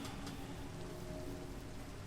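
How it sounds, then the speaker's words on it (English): Minecraft rain in a survival world, a steady soft hiss of rainfall with a faint low rumble, constant and fairly quiet throughout with no talk. "It's raining. I forgot it's raining."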